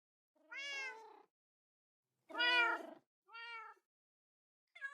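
A cat meows in the Minecraft video game, four separate clear meows with pauses between them, heard alone without any talk.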